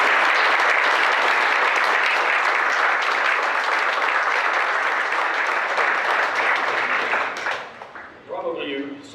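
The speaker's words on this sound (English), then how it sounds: "gentlemen, give yourselves a round of applause for the community" An audience at a Veterans Day ceremony in Fort Walton Beach, Florida, gives a long, dense round of applause that holds steady, then thins out near the end.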